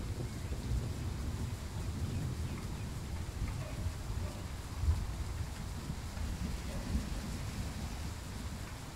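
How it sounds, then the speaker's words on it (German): A heavy thunderstorm in Train Sim World 4 on a Bavarian route: steady, dense rain noise with deep thunder rumbles underneath and a few louder low thuds, continuous and fairly close. "also jetzt wird es schon heftig mit Gewitter und Blitz und Donner"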